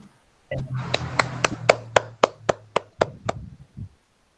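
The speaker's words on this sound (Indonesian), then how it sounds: "Beri tepuk tangan pada Mbak Wian." A small group claps briefly, a handful of sharp, distinct hand claps in a loose rhythm that trail off after a few seconds, with a low hum underneath.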